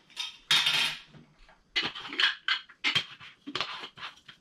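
A lid on a plastic storage container being pulled off and swapped, heard as several short clattering, knocking bursts with brief pauses between them, close by and with no talking.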